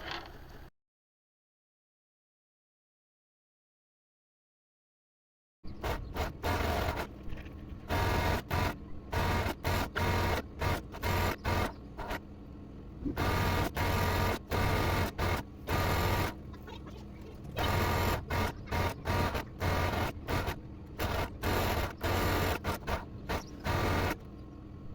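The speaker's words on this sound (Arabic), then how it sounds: "صافي غادي ندوز البياسه ديالي في السورجي" An overlock serger stitches the edge of a fabric strip for a summer pajama neckline, running in rapid motorized bursts with short pauses between runs after a silent opening stretch.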